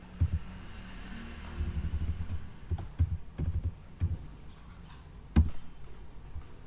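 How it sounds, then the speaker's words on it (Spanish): Keys clack on a computer keyboard in short, uneven bursts as shortcut combinations are pressed, with one sharper final key strike standing out near the end. "Puede ser control shift barra espaciadora y la llamo Carlos. Enter"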